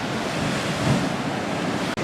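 Ocean waves wash steadily along the Oregon coast, a broad, continuous roar of surf with heavy wind buffeting the microphone throughout.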